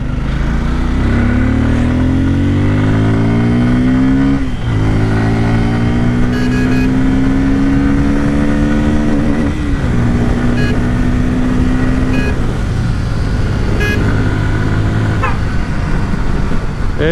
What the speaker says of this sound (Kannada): ಇನ್ಶಿಯಲ್ ಪಿಕಪ್ಪು, ಮಿಡ್ ರೇಂಜು, ಇವೆಲ್ಲವೂ ಸಖತ್ತಾಗಿದೆ ಗುರು ಈ ಬೈಕ್ನಲ್ಲಿ.